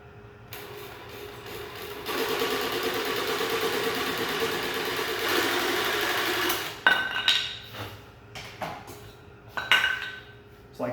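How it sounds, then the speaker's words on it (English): A jigsaw cuts a short line through thin 1-inch cedar board, its buzzing motor steady and close for about five seconds, then stopping and restarting in short bursts mixed with knocks and handling clatter. "We're just going to use a jigsaw."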